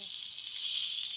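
Chicken pieces shallow frying in a pan over low heat give off a steady, bright sizzle that runs evenly throughout, close and fairly loud, with no voices over it.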